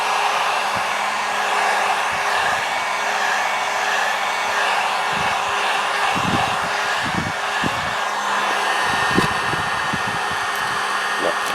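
A heat gun blows hot air across vinyl wrap on a faux mirror cap, a loud, constant rushing hiss that holds steady throughout, with a few soft handling knocks beneath it.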